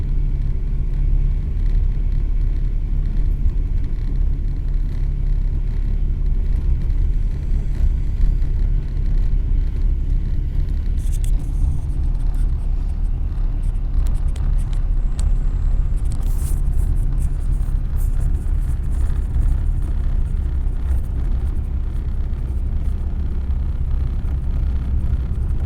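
A Dolphin luxury bus travels a busy, potholed highway near Sangameshwar Road on the Thane to Sawantwadi route. Its steady, heavy engine and road rumble fills the whole stretch without pause, with no voices.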